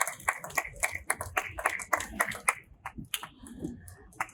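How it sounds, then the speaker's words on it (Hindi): A few people clap at a welcome during a talk at a Jain knowledge centre, sparse irregular claps close by with gaps between them, thinning out toward the end. "कृपया तालियों से स्वागत कीजिए।"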